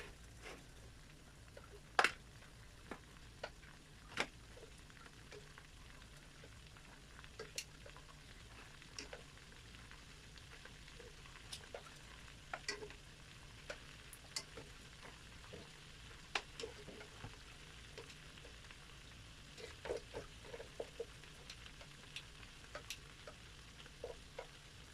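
Chicken browns in a pan with butter and garlic, giving a faint, steady frying sizzle marked by scattered small pops and occasional clicks of stirring.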